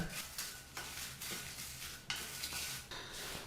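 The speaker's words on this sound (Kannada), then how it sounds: "ಈಗ 4ರಿಂದ 5 ನಿಮಿಷ ಈ ಪದಾರ್ಥನೆಲ್ಲ ಮೀಡಿಯಮ್ ಅಥವಾ ಲೋ ಫ್ಲೇಮ್ನಲ್ಲಿ ಫ್ರೈ ಮಾಡ್ಕೋಬೇಕಾಗತ್ತೆ." Chutney ingredients for Andhra-style gongura chutney frying in a pan with a little oil over medium or low flame, a steady sizzle broken by repeated scraping strokes of stirring, close and continuous with no talking.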